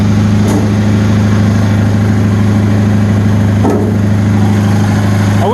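A Bolens 2000 garden tractor engine idles inside a shed, a loud, steady, close low drone with constant pulsing that holds evenly throughout, with a couple of faint clicks.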